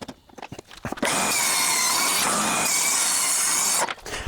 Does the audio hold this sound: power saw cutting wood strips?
yes